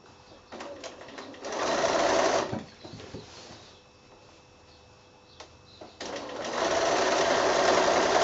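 A sewing machine stitching down quilt binding near its fold, running in two long steady bursts of rapid whirring with a quieter pause between for fabric handling.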